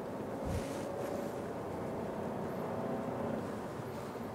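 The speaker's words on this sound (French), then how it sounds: "je vais faire une petite accélération." A 2021 Ford Focus mild-hybrid with a three-cylinder EcoBoost engine running on E85 bioethanol accelerates, a steady low drone inside the cabin with road and wind noise around it.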